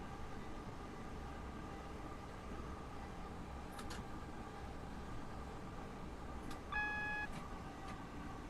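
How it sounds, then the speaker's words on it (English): Train cab warning alarm for a single yellow signal in Train Sim World 2 on the Southeastern High Speed line between Rainham and Gravesend, a brief electronic tone with clicks over a constant low cab rumble. "we want to start slowing down for the 30 when we get the alarm for the single yellow signal"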